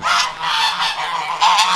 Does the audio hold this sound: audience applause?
no